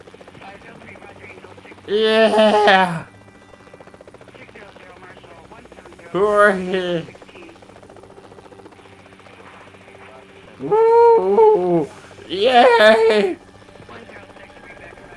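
A rescue helicopter flies in the Rettungshubschrauber Simulator game, its steady rotor and engine drone running continuously beneath short bursts of excited shouting.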